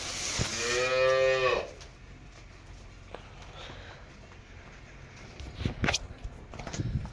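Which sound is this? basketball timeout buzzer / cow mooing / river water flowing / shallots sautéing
cow mooing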